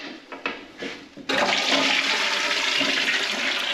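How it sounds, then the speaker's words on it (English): A toilet in a newly refurbished bathroom is flushed. A few clunks of the handle lead into a loud, sustained rush of water that stays steady to the end, close by and with no talk. "Drop toilet seat on and give it a flush"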